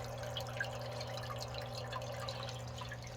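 A Fluval 407 aquarium canister filter runs with a steady low hum and a continuous trickle of dripping, splashing water, moderately loud and constant throughout, with no voices.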